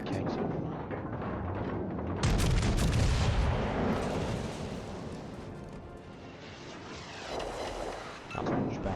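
Heavy naval gunfire from the USS West Virginia battleship in a naval video game, with deep booming blasts around the two-to-four second mark and rumbling reports later, mixed with background game sound and some voice.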